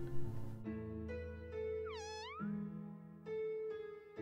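Cats in the video game OMORI give a series of tonal meows, including one rising and falling cry, over steady game music. The meows are clear and close, and no one speaks.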